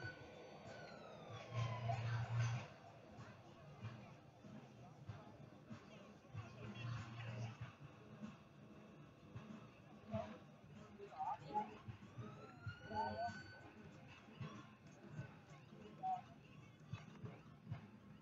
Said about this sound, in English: that was my siren that I made today